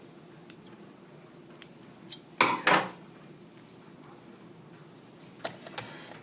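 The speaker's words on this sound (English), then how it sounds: "Trim your threads close so that you have no hairy garments." Scissors snipping thread ends after sewing a sample seam, a brief cluster of sharp clicks and cuts in the middle with a few faint ticks before and after, close and alone in a quiet room.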